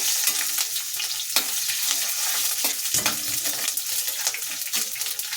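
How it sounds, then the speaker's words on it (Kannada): Green chillies sizzle in a kadai for Bombay aloo masala, a dense continuous frying hiss close by, broken by a few spoon scrapes and clinks, with no one speaking. "ಚೆನ್ನಾಗಿ ಫ್ರೈ ಆಗಲಿ ಇದು"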